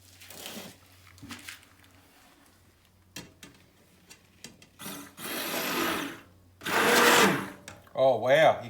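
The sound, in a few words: stick blender mixing soap mixture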